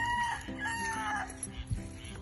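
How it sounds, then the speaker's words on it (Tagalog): Rooster crowing with chickens clucking around a farm chicken coop, a close drawn-out crow over low scattered clucks and a few soft knocks. "Eh, manukan."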